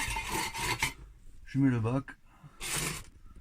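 A square key loosens the gearbox drain plug on a Renault Clio 2 1.9D, making short rasping, scraping turns that come and go between bursts of nearby talk.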